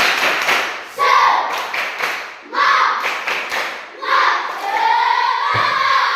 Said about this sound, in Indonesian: Dimulai, tepuk semangat.